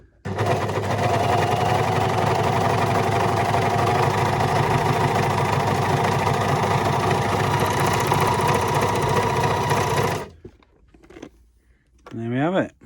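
Baby Lock Success Lily overlocker running a sew test, a steady loud motor whir with rapid stitching chatter lasting about ten seconds before stopping abruptly, followed by brief handling noise.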